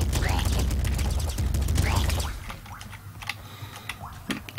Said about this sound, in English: Seems like the machine gun's kind of wasting a bit too much ammo